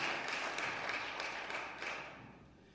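Congregation at a men's church congress applauding, a dense steady wash of many hands clapping that gradually fades toward the end.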